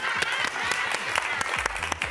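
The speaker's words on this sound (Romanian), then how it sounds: "aplauze!" Studio audience applause at a Romanian televised word-game contest, a dense, steady wash of clapping with some louder individual claps, while people talk and laugh over it.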